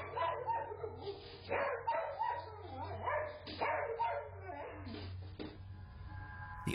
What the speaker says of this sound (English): which seems to send the dog right into a panic